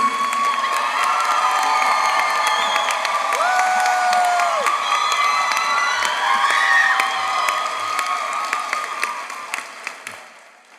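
A large crowd at a Class of 2025 graduation ceremony in Orange County applauds and cheers loudly for student speakers, with whoops and shouts rising above steady clapping that gradually thins out toward the end.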